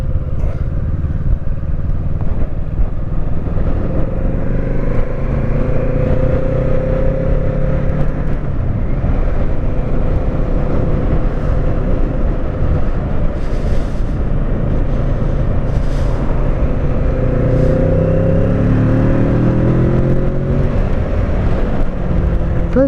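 Kawasaki Z650 naked street motorcycle accelerates on the road, its engine drone rising and falling steadily through gears, heard up close with wind noise throughout.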